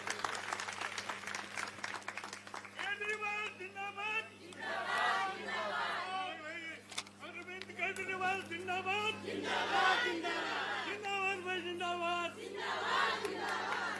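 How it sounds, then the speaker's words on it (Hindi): Rally crowd in India clapping and cheering, moderately loud and uneven, with rhythmic shouted chanting and voices rising over the applause in waves. "अरविंद केजरीवाल जी के लिए जोरदार तालियां बजाइए"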